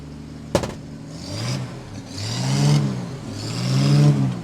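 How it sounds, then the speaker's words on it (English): A 1950 Studebaker R-Series pickup truck's engine revved in two swelling bursts after a sharp click, the mid-pitched roar climbing and easing back, close and alone. "rev the engine for me there, Roy."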